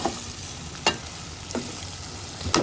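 Olives cooking in melted sugar and mustard oil in a pan for olive pickle, a soft steady sizzle with three sharp spoon clicks against the pan, close and alone.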